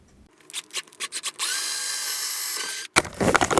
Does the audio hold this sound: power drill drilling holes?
yes